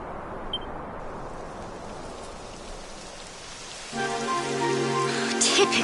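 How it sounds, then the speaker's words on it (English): Rain sets in within the video game Dragon Quest XI, a soft steady patter that grows fuller and louder toward the end, joined by a sustained tonal music layer in the final seconds. "It would have to go and start raining, wouldn't it?"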